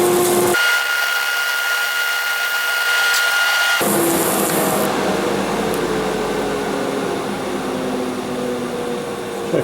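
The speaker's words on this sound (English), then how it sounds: "I've got a sandpaper glued on here, and I'll just run it lightly over the bottom" A wooden bowl's bottom is sanded lightly on sandpaper glued to a power tool: a loud, continuous whirring grind with a steady hum, changing tone sharply partway through, then running on without talk.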